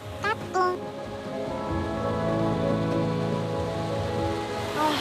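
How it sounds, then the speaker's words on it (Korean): Groundwater spilling from under a rock as a small waterfall at a Tunisian oasis, a steady, close rushing splash that runs throughout, with a short musical passage at the start and near the end. "바위 아래 고여있던 지하수가 샘솟아 폭포가 되었습니다"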